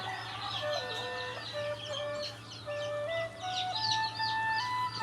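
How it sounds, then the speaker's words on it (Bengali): One-day-old Fayoumi chicks just taken out of an incubator for brooding on a farm chirp in a busy chorus of high, repeated peeps, close and constant over a low steady hum. "আমাদের যে ফার্ম মুরগির বাচ্চাগুলো আছে, বাচ্চাগুলো একদিনের বাচ্চাগুলো আমরা দেখাবো"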